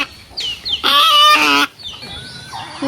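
A native Bangladeshi backyard chicken gives one loud, close squawking cluck burst in the middle, with quieter fowl calls before and after.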